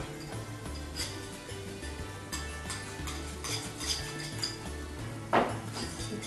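Sugar melting in a pan is stirred with steady, soft scraping strokes, close and continuous, with a few light clinks of a spoon against the pan and a brief louder scrape near the end.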